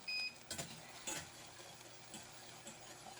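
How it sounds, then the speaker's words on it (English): Butter stirred and swirled into pasta in a pan, for a dish of seared scallops with shaved truffle: soft, quiet scraping and stirring with a faint sizzle and a couple of brief clinks early on. "we're going to swirl the butter in there"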